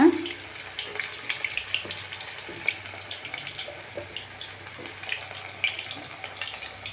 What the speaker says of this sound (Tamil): இப்போ எண்ணெய் நல்லா சூடாக இருக்குது நான் ஒன்று ஒன்றா போட்டு எடுத்துக்க போகிறேன் ஸோ இந்த மாதிரி சின்ன சின்ன பபுள்ஸ் வரணும்